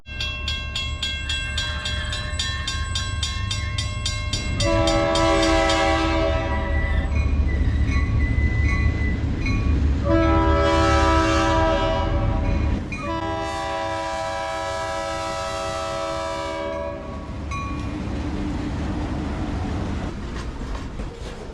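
A train rolls past near a bike route beside an old train building, its horn blaring in long sustained blasts over a steady rumble of rail cars that carries through the whole stretch.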